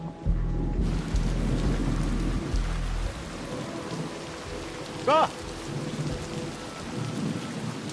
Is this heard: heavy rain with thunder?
yes